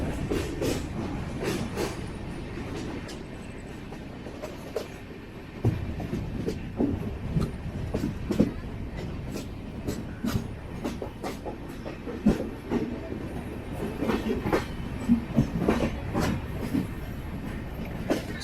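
The 16301 Venad Express rolls along the rails in Kerala, a steady low rumble with repeated clickety-clack wheel beats throughout, heard from on board at moderate loudness with no talking.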